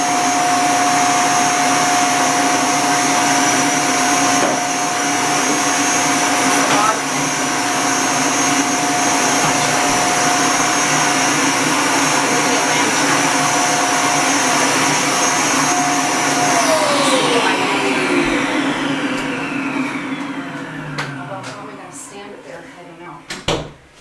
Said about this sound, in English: I'm just going to vacuum out the inside here